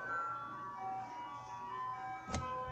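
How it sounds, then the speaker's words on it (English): An ice cream truck plays its jingle as a steady, tinkling electronic melody from moderately far off, over a constant background hum, with a brief sharp noise near the end. "This ice cream truck be loud as fuck."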